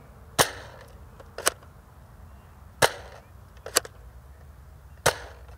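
A Nerf N-Strike Elite Dual-Strike blaster firing Elite darts from its Elite barrels: five sharp, snappy pops spaced about a second apart over faint room hiss, close by and with no talking.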